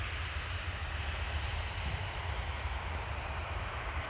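An Air Caraibes Airbus A350-900 taxis toward the runway at Orly airport, producing a steady, broad jet-engine drone with a deep rumble that holds constant throughout, with no talking.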